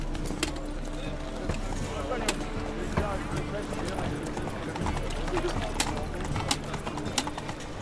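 Hooves of a horse galloping in the video game Witcher 3, a steady rapid clip-clop over continuous background music and ambience, with a voice speaking briefly.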